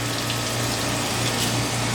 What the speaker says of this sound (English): We're going to fill the pan with the hot water.